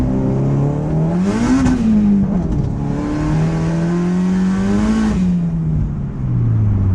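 An Acura Integra pulls hard in second gear, its engine note rising and falling through revs in a loud, close, continuous drone with no talking.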